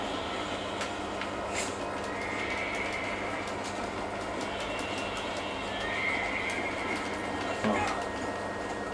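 A horse whinnies and its hooves clip-clop in the Western video game Red Dead Redemption, the neighs fairly faint over a steady hum of game ambience and rumbling background noise.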